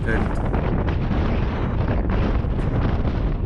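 Strong wind roars and buffets against the microphone during a group road bicycle ride at about 20 miles per hour, a loud, continuous low rumble with no letup.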